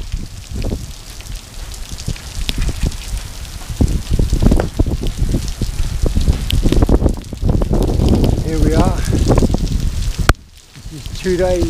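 Heavy rain and gusting wind from a cyclone batter an island shoreline near a cave, a loud, constant wash of noise with someone talking over it.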